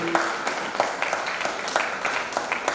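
An indoor audience at an inaugural gathering breaks into steady, moderately loud applause, a continuous patter of many hands with scattered sharper claps throughout.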